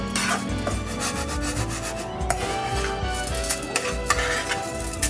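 Rice is stirred and scraped around a pan, a continuous close rubbing and scraping with occasional louder knocks, no voices over it.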